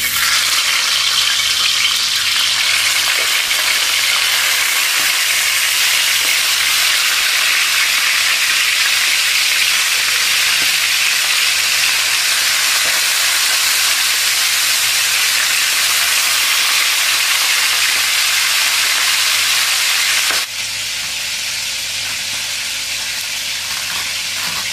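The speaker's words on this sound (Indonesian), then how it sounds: "Kita goreng ya." Chicken marinated with salt and pepper frying in hot oil, a dense continuous sizzle and hiss that stays loud and steady throughout, easing slightly near the end, with no voices.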